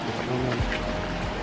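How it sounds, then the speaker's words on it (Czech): Rain falls outdoors at Plitvice Lakes as a steady, close wash of noise with a low rumble underneath, lasting the whole short moment without a break. "A zase nám prší."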